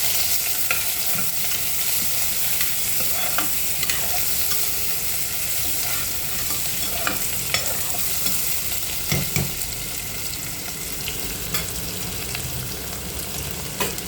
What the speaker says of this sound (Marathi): कांदा थोडासा फ्राय करून घ्यायचा आहे